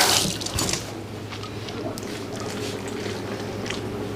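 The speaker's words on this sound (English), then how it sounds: "Brown rice pasta. Let me rinse, give this a little rinse." Brown rice pasta rinsed under a running kitchen faucet: a steady splashing water stream that starts with a louder burst and continues evenly, near and alone.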